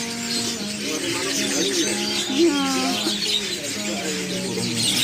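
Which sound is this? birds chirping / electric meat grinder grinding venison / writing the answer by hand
birds chirping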